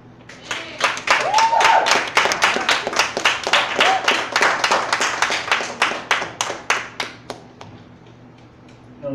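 A theatre audience at a showcase breaks into applause for a performer, a steady run of claps that swells, then thins into scattered hand claps before fading out, with a brief whoop or cheer near the start.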